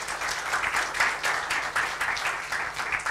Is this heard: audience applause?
yes